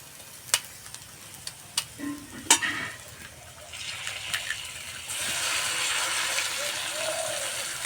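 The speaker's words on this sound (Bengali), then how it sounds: "এবার একটা ডিম ভেঙে দিয়ে দেবো।" An egg is cracked into a pan of frying vegetables: a few sharp ticks and taps come first, then the sizzle swells and holds steady, loud and close, with no voices.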